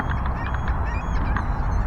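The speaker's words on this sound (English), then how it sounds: "now there's a whole bunch of geese and ducks," A whole bunch of geese and ducks honk and quack together outdoors in a dense, steady chorus at moderate distance.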